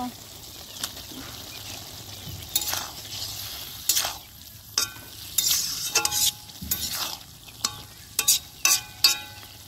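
Fried potatoes tipped into boiling cabbage curry and stirred in a pot, with scraping and clattering strokes over a soft bubbling sizzle, a series of sharp, close knocks punctuating the steady cooking noise.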